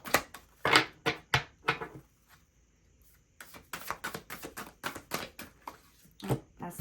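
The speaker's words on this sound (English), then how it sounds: "these cards are really big in my little bitty hands, so it's hard to shuffle them" Oversized tarot cards being shuffled by hand during a reading, a run of quick papery riffles and taps in uneven bursts with a short pause in the middle, close and fairly quiet.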